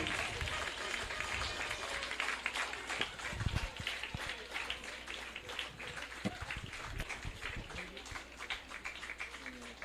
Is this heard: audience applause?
yes